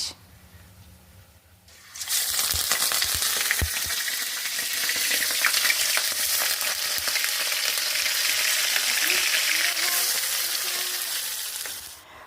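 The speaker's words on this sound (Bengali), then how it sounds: "এখন রান্না চলছে বাঁধাকপির ঘন্ট," Cabbage ghonto, a vegetarian dish, frying in a pan with a loud, steady sizzle that starts abruptly after a quiet moment and continues evenly, with occasional stirring scrapes and no talking.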